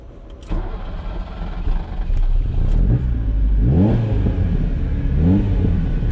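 A Ferrari 308 GTS with a sportier aftermarket exhaust starts up and settles into a deep idle, then gives several rising throttle blips that fall away again, loud and close with no talking.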